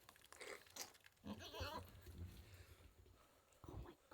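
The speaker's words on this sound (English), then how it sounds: "Isn't that cool? Little goat." A newborn baby goat bleats faintly among farm sounds, nearly buried under close, excited talk from nearby people.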